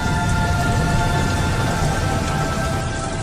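Rain falls steadily in a thick, unbroken wash of patter, loud and close, with a faint constant tone running underneath and no talking.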